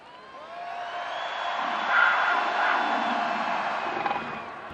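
A huge game-day crowd at Penn State's Beaver Stadium cheering, a broad roar that swells to a peak midway and stays loud, with whoops and whistles rising above the mass of voices.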